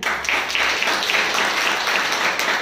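A church congregation applauds, with dense, loud clapping from many hands that fills the space without a break.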